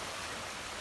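Floodwater from a swollen suburban Ohio creek pours through the woods, a steady broadband rushing wash with no voices.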